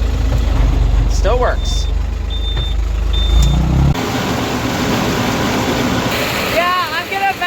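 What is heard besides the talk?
tractor starting and running with PTO engaged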